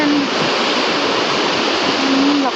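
A long, swollen river rushing strongly after a flood, a loud, steady roar of churning water filling the whole stretch without a break.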